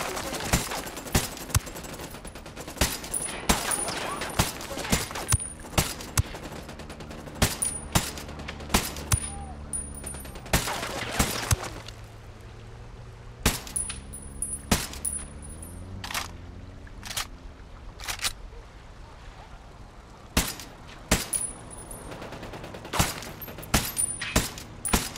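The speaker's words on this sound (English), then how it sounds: "I'm shooting these fuckers." Gunfire in Ghost Recon Wildlands rings out in sharp, scattered single shots and short bursts throughout, fairly loud over a low background of in-game ambience.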